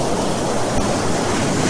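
Voices imitate wind and waves on a morning radio show, producing a loud, continuous breathy rush like a desert wind or surf on a beach that fills the short stretch without any words.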